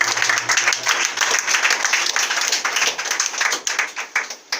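A church congregation claps together in a steady, dense round of applause, moderately loud and filling the room, with no voices over it.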